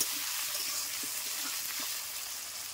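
Onions and potatoes, seasoned with salt and turmeric, fry in a pan with a steady, close sizzle that holds evenly for a few seconds with no voices.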